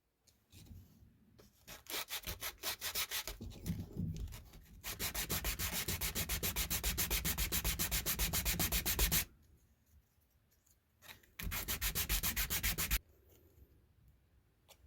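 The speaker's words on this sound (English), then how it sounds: "And I will just sand this until it's a nice snug fit." Hand sanding of a small wooden wedge cut from scrap in a tiny mountain woodshop, a close, loud, steady back-and-forth rasp in long continuous strokes, pausing briefly twice, with no voices.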